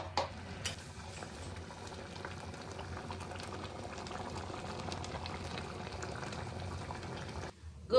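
Ghugni, a Bengali yellow pea curry thinned with added water, boiling steadily in a pot with a continuous low bubbling simmer and soft liquid gurgles, close and even throughout.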